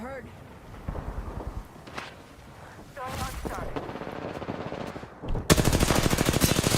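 Video game gunfire cracks in scattered shots, then erupts into a loud rapid automatic burst near the end, mixed with other game noise and a talking voice.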